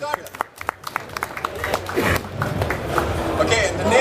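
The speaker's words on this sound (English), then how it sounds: "Let's give a round of applause for Darta" Audience applause at a live Lithuanian lecture event in Vilnius, starting as scattered claps and swelling into steady clapping from a crowd, with some voices mixed in.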